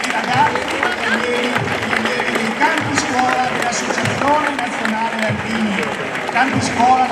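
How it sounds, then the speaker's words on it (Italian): A crowd at an outdoor National Alpini Association ceremony in Bibione, San Michele al Tagliamento, applauds steadily for several seconds, with voices mixed into the clapping. "E ancora un applauso, e fatelo sentire"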